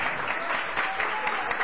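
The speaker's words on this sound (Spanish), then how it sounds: "Un aplauso para ella." Bar audience claps for a singer at a national karaoke championship, a short burst of close, steady applause with little else heard.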